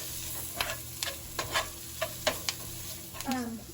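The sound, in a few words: stirring flour into melted butter to make a sauce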